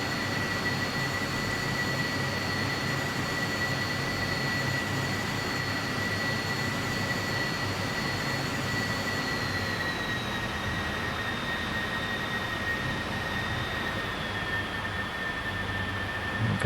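A McDonnell F2H-2 Banshee jet fighter in Flight Simulator 2020 gives a steady, loud engine roar with a high whine that dips slightly in pitch partway through. It continues alone with no talk.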